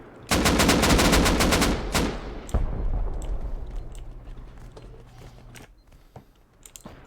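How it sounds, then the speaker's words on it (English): C4 charges detonate during a base raid in the video game Rust at a 7v7 tournament: a rapid string of sharp bursts, then two heavy blasts with long decaying rumbles and scattered faint clicks afterward. "You see the C4, you can hear the explosion going off time and time again."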